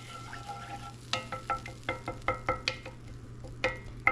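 A spoon stirs and scrapes browned bits off a pan of chicken broth while making Marry Me Chicken, giving a run of regular close clinks and scrapes over a low steady simmer hum.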